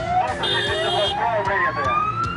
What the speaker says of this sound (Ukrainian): Автоколона вривається із сиренами та проблисковими маячками.